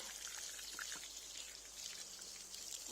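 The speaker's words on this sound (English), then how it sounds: "I'm watering this nicely till all the potting mix becomes wet" Water is poured onto a potted ajwain plant until the potting mix is soaked, a faint, soft trickle and patter that stays steady for a few seconds.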